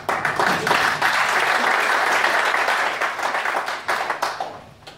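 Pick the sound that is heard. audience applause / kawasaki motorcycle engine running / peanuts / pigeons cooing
audience applause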